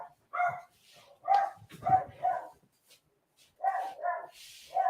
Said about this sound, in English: dog is like screaming